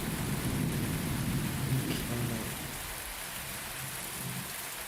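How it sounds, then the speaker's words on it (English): Steady rain and rolling thunder from a thunderstorm in the video game Universe For Sale, a loud continuous wash with a low rumble swelling early on and easing after about two seconds. "I absolutely love thunderstorms."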